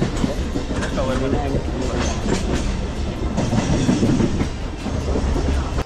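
A local train bound for Virar rumbles along with rhythmic clickety-clack from the wheels and rattling carriages. Voices murmur faintly beneath the steady din.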